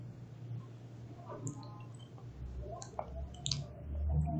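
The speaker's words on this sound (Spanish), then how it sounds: "agua pintada cayendo sobre agua limpia" Drops of painted water fall into a container of clean water, making a few soft, close drips and small plops spread irregularly over a quiet background.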